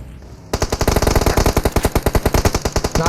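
Rapid automatic gunfire in a first-person shooter match, a loud, evenly spaced burst of about two dozen shots that starts abruptly after a brief quiet lead-in.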